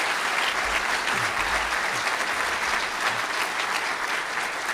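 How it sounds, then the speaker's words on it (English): Crowd at a university fall convocation applauding new students, a full, continuous burst of many hands clapping at steady loudness from start to finish, with a faint low rumble beneath. "a round of applause for all these new folks would be great"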